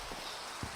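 Steady Minecraft rain hisses evenly with no break, and a couple of soft droplet taps sound close by over the wash.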